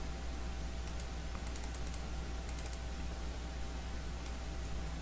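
A computer keyboard gives a few faint, light key clicks, including an F9 press, under a steady low hiss of room and fan noise.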